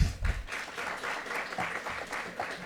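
Audience at a university communication week panel applauding to welcome a speaker, steady sustained clapping from a crowd in a hall throughout, moderately loud and without speech.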